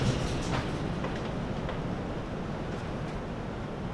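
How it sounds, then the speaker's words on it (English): Steady wind roars and buffets outdoors around a large shed in a continuous broadband rush, with no voices. "It's unbelievably windy today"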